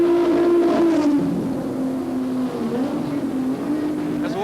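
Volvo touring race cars compete in the 1986 European Touring Car Championship, their engines a loud, close, sustained drone whose pitch sags and shifts as they run at speed.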